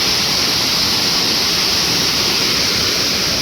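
Water pours through leaking gates of a dam at the Kadem project in Nirmal, Telangana, making a loud, continuous rushing roar that fills the whole stretch without a break.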